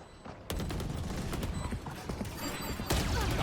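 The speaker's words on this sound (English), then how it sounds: "The barrage of bullets not connecting" A barrage of gunfire in a Valorant match, a rapid, dense burst of shots that breaks out abruptly and rattles on continuously at close range.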